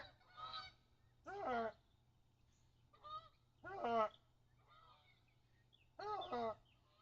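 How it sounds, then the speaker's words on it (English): Geese honk in about five separate bursts of loud, nasal calls, some doubled, spaced by short quiet gaps over a low steady hum, fairly close. "Yeah, there's some geese coming,"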